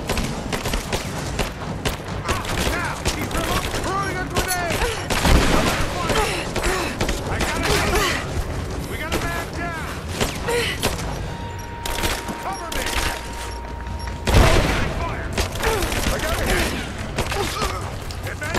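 Rapid bursts of automatic gunfire and heavy booms in the video game Rise of the Tomb Raider, dense and loud for the whole stretch, with a voice talking over the fight.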